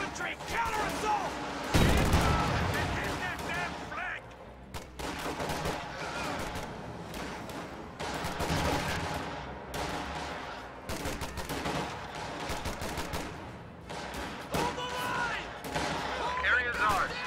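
Dense, continuous gunfire and explosions fill a strategy video game battle, with bursts of rapid shots and heavy blasts layered over game voice callouts and talk.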